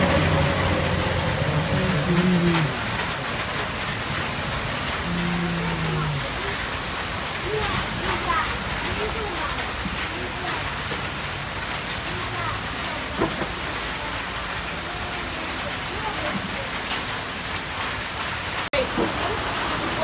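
Heavy tropical rain pours down at a beach on Sri Lanka's south coast in a dense, steady hiss, close and loud, while voices murmur briefly early on beneath the downpour.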